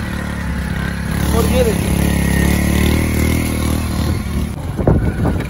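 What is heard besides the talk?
motorcycle riding through muddy village track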